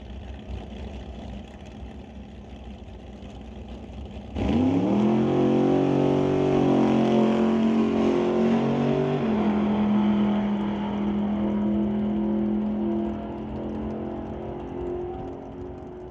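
A drag racing car, the Pendoza machine, makes a solo competition run at a West Coast outlaw event, bursting from a quiet idle into a loud, sustained engine roar that holds and then gradually fades into the distance.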